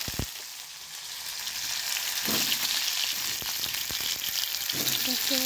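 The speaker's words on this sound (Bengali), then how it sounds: "এখানে আমি শাক ভাজতেছি, এই রসুন দিয়ে দিলাম।" Leafy greens sizzle steadily in a hot pan with garlic, a dense continuous frying hiss with occasional stirring scrapes and clinks, fairly close, no talk over it.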